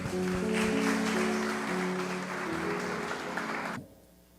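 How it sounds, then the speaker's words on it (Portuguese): A church congregation applauds during an evening worship service, a dense clatter of hands over sustained organ or keyboard tones that swells early, then thins and stops abruptly near the end. "Aplauda ao Senhor, amém."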